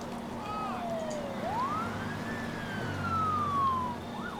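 Ambulance siren in the SimCity 2013 city-building game, wailing in long rising and falling sweeps over a steady low hum of game ambience.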